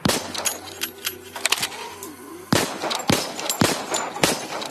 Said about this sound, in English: I gotta use the pistols.